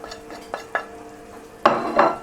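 Garam masala and salt are stirred into a simple curry with a spoon. Separate scraping strokes and light clinks sound near the pan over a faint sizzle, and the last two strokes are louder. No talking.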